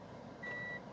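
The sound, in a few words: reversing beeps of a Mitsubishi RVR in reverse gear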